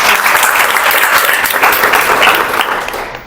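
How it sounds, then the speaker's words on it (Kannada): Sustained applause from an audience welcoming Dr. Sharada Mullur, a dense steady wash of many hands clapping at close range throughout, fading slightly at the end. "ಅವರನ್ನ ನಾವು ಚಪ್ಪಾಳೆಗಳ ಮೂಲಕ ಸ್ವಾಗತ"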